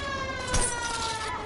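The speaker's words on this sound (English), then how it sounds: "That's what happens when you play the siren." A police siren in the video game L.A. Noire wails steadily, its electronic tone rising and falling, with no one speaking.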